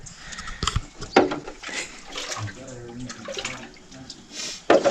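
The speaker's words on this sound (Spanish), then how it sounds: "Y me voy a lavar la cara." Splashing of freezing cold water as someone washes their face outdoors, irregular splashes and trickles up close, with a voice speaking over parts of it.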